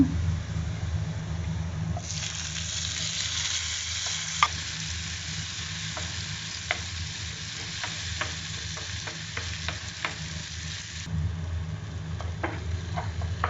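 Tomato drops into golden fried onions in a pan for soya chunks dry roast, setting off a louder burst of sizzling with sharp crackles and stirring clicks, close, before the hiss settles back down.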